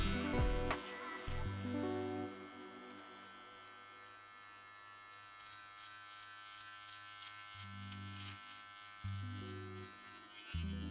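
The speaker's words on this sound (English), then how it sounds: "I just like to use a trimmer" An electric beard trimmer buzzes steadily up close, its drone switching on and off and shifting in pitch as it moves along the beard, with no talking.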